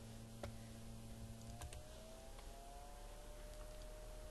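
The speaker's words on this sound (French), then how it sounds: "appuyer sur la touche Windows qui se trouve en bas du clavier et puis écrivez panneau de configuration" Soft typing on a computer keyboard while setting up a Windows virtual machine, a few faint scattered key clicks over a steady low electrical hum.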